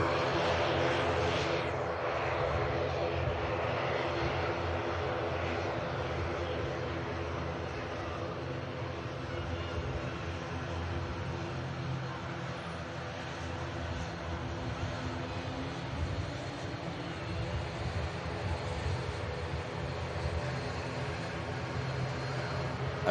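An Air France Airbus A220 with Pratt & Whitney 1100G engines spools up for takeoff on runway 05 left at Manchester Airport, a steady loud jet roar sustained throughout from fairly close by.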